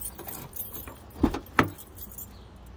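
A bunch of keys jingling close by, with a few sharp metallic clinks standing out over quiet background noise.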